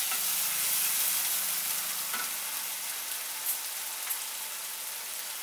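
Onion paste with ginger, garlic and green chili paste frying in a pan for doi katla gives a steady, dense sizzle with a low hum under it at first, continuous and close, with no talking.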